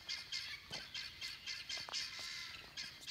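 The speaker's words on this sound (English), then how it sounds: "Do you hear my guineas?" Repeated harsh, high-pitched squawking calls from several guinea fowl, coming in rapid irregular bursts at moderate distance, with no talking.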